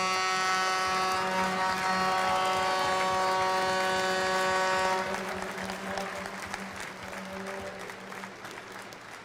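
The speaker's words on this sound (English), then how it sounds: "a nice round of applause here" An arena crowd at a hockey jersey retirement ceremony in Prince Albert applauds right winger Dave Pizzine, the clapping joined by a sustained droning tone that cuts out halfway, leaving the applause to taper off.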